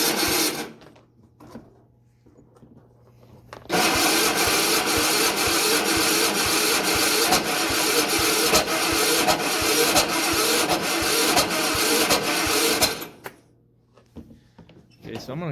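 Small engine on an MTD Yard Machines riding tractor being cranked over with no choke, a loud steady churning run of starter cranking lasting about nine seconds between quieter stretches.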